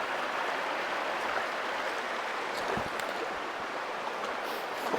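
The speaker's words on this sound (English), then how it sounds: "I think the waterfalls are absolutely amazing" Steady rushing of creek water and small waterfalls along Basin Creek in Doughton Park, a continuous broadband wash filling the whole stretch at moderate level with no voices.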